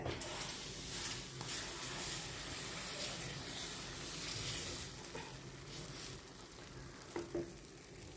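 Dosa batter sizzling and frying in a pan with no oil spread, a steady soft hiss with occasional stirring and scraping scrapes, close but fairly quiet.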